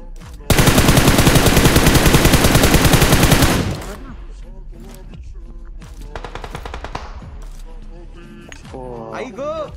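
Rapid automatic gunfire in a video game rattles loud and continuous for about three seconds, followed by scattered shorter bursts and single shots while voices talk excitedly over the action.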